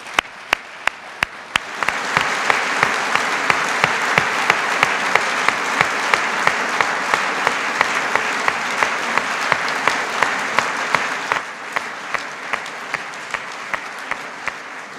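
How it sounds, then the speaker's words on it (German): A CVP Kanton Luzern gathering in Willisau greets Federal Councillor Doris Leuthard with strong, sustained applause. A few rhythmic claps start it, then dense clapping swells and holds, with a steady beat of accented claps running through. "kräftigen Applaus"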